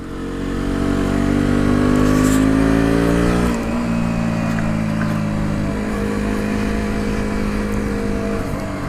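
A KTM Duke 125 motorcycle engine drones loud and close, rising in revs for about three seconds, then easing off to a steadier, lower hum as the bike rides on through a turn.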